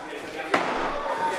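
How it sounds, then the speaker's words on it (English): A hard clothesline delivered in the ring corner during a professional wrestling main event lands as one sharp thud beneath steady commentary and crowd noise. "Hard clothesline in the corner."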